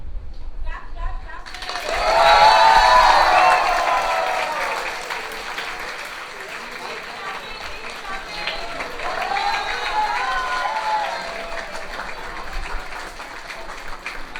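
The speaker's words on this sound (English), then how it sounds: "Give them a round of applause, everyone." An audience at a school Parents Day bursts into applause that swells loudly, eases, then rises again in a second wave of clapping and cheering, with a lively crowd and some voices mixed in.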